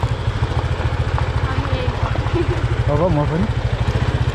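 A motorcycle is ridden across a village suspension bridge, its engine chugging in a steady, close, low pulse throughout while people talk over it.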